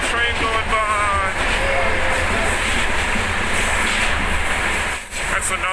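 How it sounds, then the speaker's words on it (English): A train passes close by in Georgia with a loud, steady rumble and a rushing, clattering roar that holds for several seconds, briefly dips, then returns, while people talk over it. "Oh, it's another train going by."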